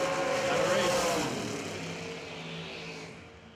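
Drag racing cars launch together at a bracket nationals event, a loud engine roar swelling at the start and then fading as the pair pulls away down the strip.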